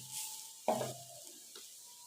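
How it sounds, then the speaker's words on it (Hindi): Masala spices frying in a pan for an aloo dish, with a soft steady sizzle and one brief louder stirring scrape near the start, fairly quiet and close, no voices. "हम मसाले को अच्छी तरह से भूनेंगे। ताकि इसका कच्चापन खत्म हो जाए।"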